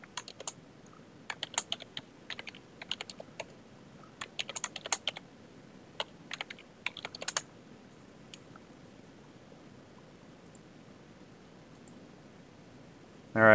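Keys tapped on a computer keyboard while a new password is entered, coming in irregular bursts of clicks over a quiet background for about seven seconds before trailing off into near silence.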